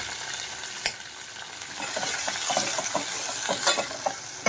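Onions, curry leaves and green chillies frying in a pan for restaurant-style biryani, a dense steady sizzle with scattered spatula scrapes and a louder pop near the start, close and fairly loud, no speech.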